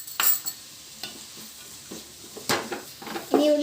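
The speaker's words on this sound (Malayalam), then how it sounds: "വേവുന്നത് വരെ ഇങ്ങനെ ഇളക്കി കൊടുക്കാം" A spoon stirs Kerala-style crab roast frying in a pan, bursts of scraping and sizzling at irregular intervals over a soft steady fry, close and moderately loud.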